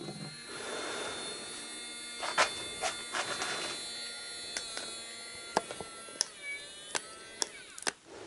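A small battery-powered electric fuel pump hums steadily with a faint whine, punctuated by sharp clicks and taps, fairly quiet and close.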